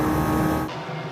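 Honda touring cars in a 2013 WTCC race field in Slovakia on a warm-up lap pass with a brief, moderately loud engine whoosh that cuts off abruptly, leaving a fainter low hum.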